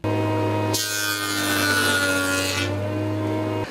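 Fresh pine cross-section slice is sanded by hand, a loud steady rasping scrape lasting about two seconds over a constant low machine hum.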